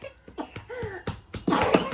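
A few short coughs in quick succession, close by, with a bit of breathy vocal noise at the end.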